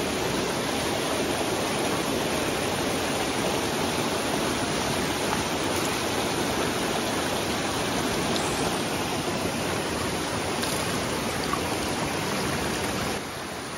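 River water in Alaska rushes and washes over gravel during gold panning, a steady, close, broadband hiss and splash with no let-up and no voices.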